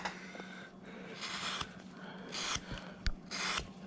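A 10 mm number 9 gouge carving a wood block being roughed out without a bandsaw, giving several short close scraping cuts in uneven bursts with quiet pauses between them.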